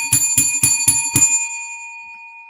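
A bell struck five times in a steady rhythm, each bright ring close and loud, then left to fade into a long sustained hum with no talk over it.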